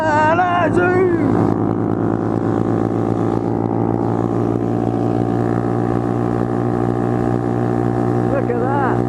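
A vehicle engine fitted with a new aftermarket exhaust drones loud and close in a sustained, throaty rev, with a brief voice near the start.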